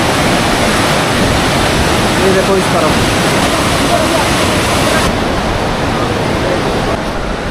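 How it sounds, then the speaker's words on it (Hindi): A river rushes loudly below a gurdwara at Manikaran, a steady broadband roar of fast water filling the whole stretch, with someone speaking briefly over it. "साउंड आ रहा होगा आपको नीचे नदी का"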